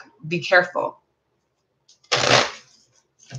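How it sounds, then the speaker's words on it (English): Tarot cards are riffled in a short burst of crisp shuffling partway through, sitting between brief spoken words before and after. "when I just now started the shuffling the deck"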